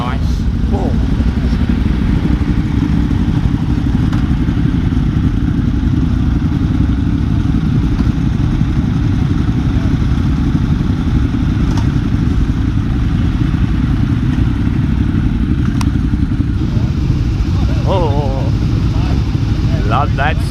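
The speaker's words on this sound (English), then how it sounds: "I do love the sound of a Ducati." A Ducati motorcycle engine revs at a busy bike gathering in Australia, holding a loud, continuous rumbling roar throughout while people talk over it.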